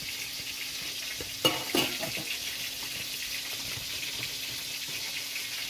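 Prawns with salt, turmeric and Kashmiri chilli powder going into a hot pan: a steady bright hiss of frying with a couple of sharp splashy bursts as the prawns hit the pan, no talk.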